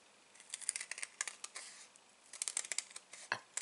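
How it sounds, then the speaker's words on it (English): Scissors trimming thin legs on a paper deer for a Stampin' Up! card, close and quiet, a quick series of crisp snips and paper rustles with a brief pause midway. "I'm just going to grab my scissors again"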